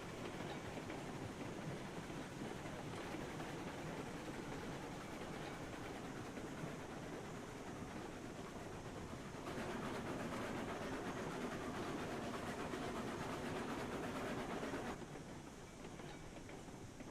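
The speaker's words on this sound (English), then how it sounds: "Can we run down here and throw the switch before the train rolls back the other direction?" A freight train rolls along rails in the Railroads Online video game, a steady dense rumble and rattle of wheels that swells slightly midway, with no talking.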